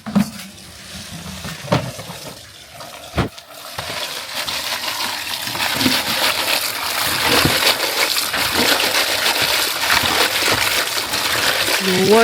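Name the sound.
washing mango leaves in water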